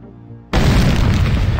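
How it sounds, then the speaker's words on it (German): Video game explosion that blows up nearly a whole tower: a sudden loud boom after a quiet moment, followed by a dense rumbling blast that carries on to the end. "Fast zum ganzen Turm explodiert."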